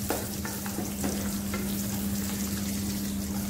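Aromatic ingredients sauté with half-wilted vegetables in a hot pan, giving a steady close sizzle and crackle with occasional stirring scrapes, and no talking.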